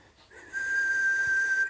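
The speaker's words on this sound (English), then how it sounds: "start off with the first tooth whistle like so" A tooth whistle opens with a short rising note, then holds one steady, bright tone at even loudness, close and alone.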